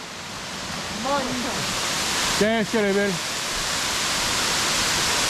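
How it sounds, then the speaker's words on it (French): La Grande Cascade, a large mountain waterfall with a plunge pool on a mountainside, sends up a loud, steady, close roar of rushing water that fills the whole clip while a voice speaks briefly over it. "La Grande Cascade. Avec son trou d'eau."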